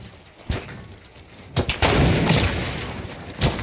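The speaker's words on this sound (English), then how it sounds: "I can shoot some grenades in there" Grenade launcher rounds fired and exploding in Fortnite squads play, a few dull thumping launches followed by a louder booming blast with a rumbling tail, close and forceful.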